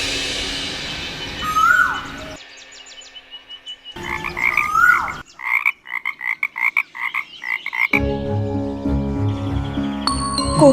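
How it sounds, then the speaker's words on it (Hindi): Frogs croaking in a mythic forest scene, rapid pulsing calls in bursts that start and stop, mixed with a bird song and shimmering musical tones, fairly loud and close. "किंतु फिर मेंढकों ने टर्राना आरंभ किया"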